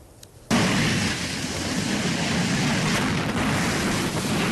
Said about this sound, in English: Explosions from the raging Park Fire sent fire crews running for safety.